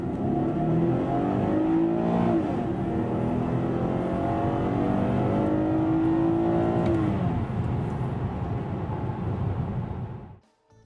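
A 2010 Cadillac CTS Sport Wagon with a 3.6-liter V6 pulls hard off the line. The engine note rises steadily under load for several seconds, then eases and cuts off at the end.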